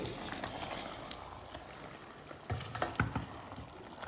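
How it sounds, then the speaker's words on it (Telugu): A spoon stirs rice and water in a pot for chicken pulao, giving soft scraping and sloshing strokes with a few louder clinks near the end, fairly faint and with no talking. "ఈ నీళ్ళు మరిగేలోపు మనం ఒకసారి కలుపుకుందాం"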